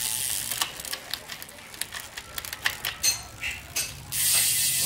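Gears click through shifts on a Shimano 105 full-carbon road bike with an 11-speed cassette, a quick series of sharp mechanical ticks and ratchet clicks heard close up, ending in a steady freewheel buzz.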